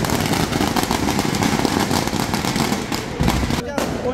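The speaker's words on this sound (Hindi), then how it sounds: "बाकी पटाखे फूट रहे हैं भाई।" Firecrackers burst at a New Year celebration with friends, a dense, loud, continuous crackle with sharp pops throughout, with no talk.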